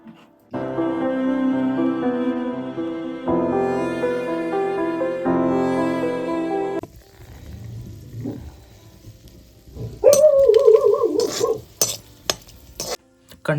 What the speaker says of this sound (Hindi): कंडाली की भुज्जी में लग जाए अगर जख्या का तड़का